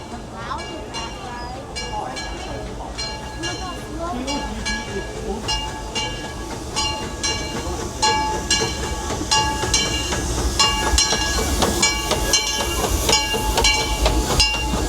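Disneyland park train ride rolling along with steady rail clatter and bright mechanical tones, busy park ambience and chatter around it, growing a bit louder toward the end.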